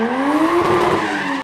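Stock Toyota VVTi 1JZ engine fitted with several mufflers, its exhaust note rising in a steady rev that holds for over a second, loud and close, before cutting off abruptly.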